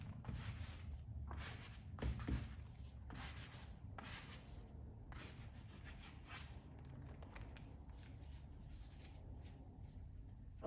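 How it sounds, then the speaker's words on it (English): Black paint is wiped off a rigid painting scraper in repeated soft, faint rubbing and scraping strokes, close but quiet, during work on a large bold abstract painting. "I'm wiping the black paint off of this rigid scraper."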